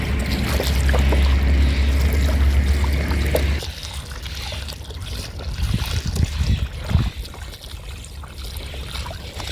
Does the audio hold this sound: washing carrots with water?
yes